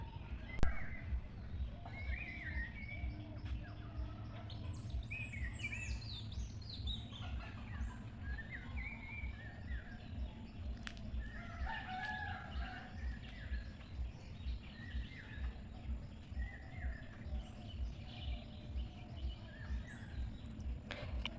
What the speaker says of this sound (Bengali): এখন হয়তো বা আপনারা কিছু পাখির ডাক শুনলেন মোরগের ডাক শুনলেন